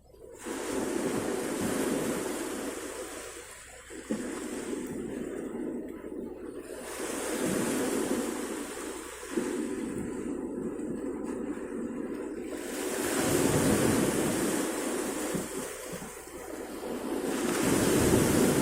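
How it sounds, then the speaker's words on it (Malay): Ocean waves washing in at Laksamana Keumala Hayati harbour, a steady broad surf roar swelling and easing in slow cycles, with wind buffeting the microphone and no talk. "Nah, dengar suara ombaknya."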